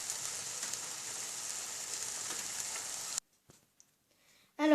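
Beef hamburger patties fry in a pan with an even, soft hissing sizzle that cuts off abruptly into near silence, and a short sharp clatter follows at the end.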